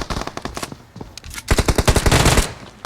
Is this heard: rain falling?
no